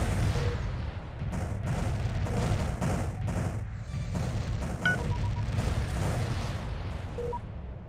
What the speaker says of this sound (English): You don't mind attacking a planet that's under, like, constant bombardment.